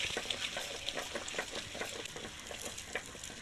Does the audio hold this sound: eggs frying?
yes